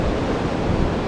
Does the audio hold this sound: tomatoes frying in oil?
no